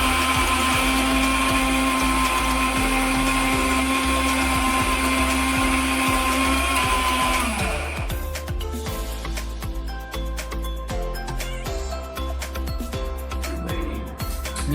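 A kitchen mixer grinder whirs loudly and continuously as it blends onion, tomato and boiled peanuts into gravy, the steady motor tone roughening into a grittier, choppier grind partway through.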